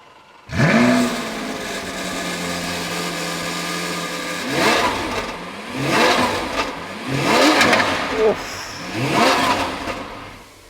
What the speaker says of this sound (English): let's have a listen to this Aventador SV. Go on, start it.